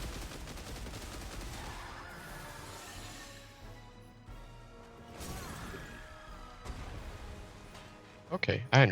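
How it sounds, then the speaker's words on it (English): Rapid machine gun fire in the Final Fantasy XVI video game rattles in uneven bursts mixed with crashing impacts, and a voice talks over the clatter near the end. "I became a machine gun?"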